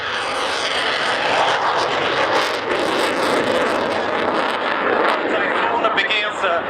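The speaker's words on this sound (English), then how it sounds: "Typhoon begins its display with a wide right turn and sun rolls" An Italian Eurofighter Typhoon jet flies an air show display, its engine producing a loud, continuous roar that rises and swells across the sky while an announcer speaks over it.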